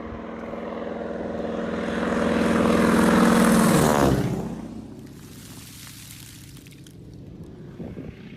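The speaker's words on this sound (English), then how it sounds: "Plane flying over" A propeller plane flies low over a dry bean field in Southern Alberta, its engine drone swelling loud as it passes overhead and then fading away with a falling pitch.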